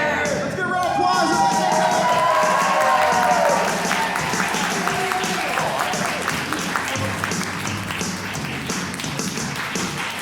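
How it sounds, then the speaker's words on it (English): A crowd applauds at an improv comedy show, a thick wash of clapping with some cheering that runs for about ten seconds while a voice talks over the start. "Let's get a round of applause."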